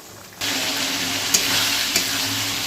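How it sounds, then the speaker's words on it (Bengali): Spice paste for a vegetarian Bengali yam curry hits a hot pan and breaks into a loud, steady sizzle close by, with a couple of sharp stirring scrapes through the hiss. "চলো মশলাটাকে ভালো করে কষা হোক।"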